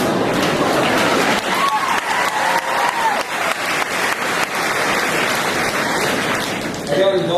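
A large crowd cheers and applauds loudly, with dense, sustained clapping and shouting that stay strong throughout and swell again near the end.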